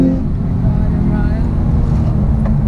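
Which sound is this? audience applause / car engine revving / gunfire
car engine revving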